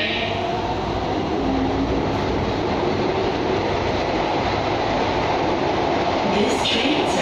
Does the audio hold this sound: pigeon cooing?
no